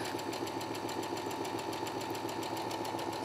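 Steady, continuous motor hum of a sewing machine stitching curved seams on a double wedding ring quilt, running evenly without pause, close and alone.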